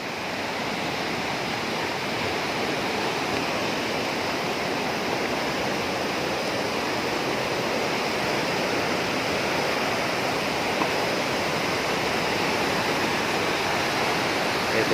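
Water thunders steadily down the Lake Sebu waterfall, its river running muddy after overnight flooding; a loud, unbroken broadband roar fills the whole stretch with no voices.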